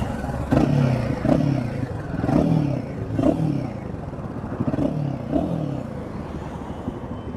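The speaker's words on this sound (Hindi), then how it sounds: "चलने से पहले मैं एक बार आपको बाइक का एग्जॉस्ट नोट भी सुनाना चाहता हूँ।" A Royal Enfield Himalayan 450 motorcycle engine is revved several times in quick blips, each a gruff rising burst from the exhaust, close and fairly loud, before settling back to a steady idle.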